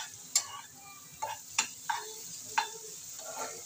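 Ridge gourd with prawns is stir-fried in a pan, several distinct spatula scrapes and clacks landing at uneven intervals over a faint, quiet sizzle.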